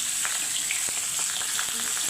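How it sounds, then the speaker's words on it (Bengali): A fish head fries in hot oil in a pan for moong dal, giving a steady, close sizzle with light crackles and occasional stirring taps throughout. "মাছের মাথাটা ভালো করে ভাজা দরকার।"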